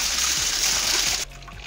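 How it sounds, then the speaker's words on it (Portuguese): Water is poured into a pan while cooking pudding, a steady close rushing splash that fills the clip and then drops off abruptly near the end. "Vou adicionar água aqui, pessoal."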